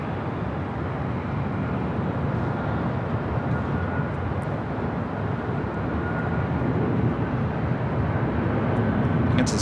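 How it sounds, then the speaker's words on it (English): An airliner, flight 125 to Tokyo Haneda, at LAX gives a sustained, fairly loud rushing engine roar that holds steady and builds a little toward the end. "This is flight 125 heading back to Tokyo Haneda."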